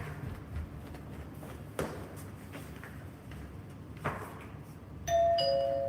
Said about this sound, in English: the chime on the left side is not quite working right